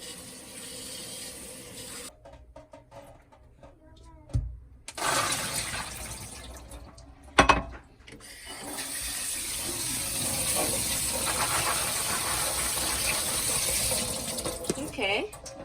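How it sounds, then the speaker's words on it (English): Peanuts are rinsed in running water to clear dust and sand, with a tap gushing and splashing in bursts, a short pause and a clunk, then a long steady stream of water. "So first we need wash the peanuts."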